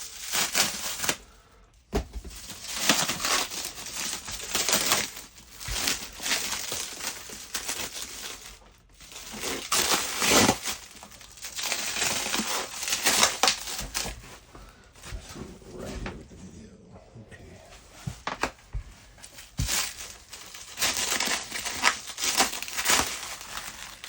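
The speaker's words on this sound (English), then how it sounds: "let's go ahead and cut these open." Plastic packaging around slabbed Venom comics crinkles and tears as it is cut open, with close, intermittent rustling and crunching throughout and some quiet talk in between.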